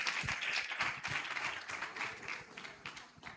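Applause from the audience at a women's church conference in Mombaça, Ceará, quieter and somewhat uneven, with scattered claps and a little talk.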